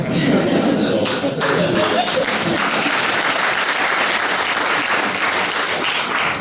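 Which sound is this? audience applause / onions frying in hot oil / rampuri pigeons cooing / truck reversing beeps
audience applause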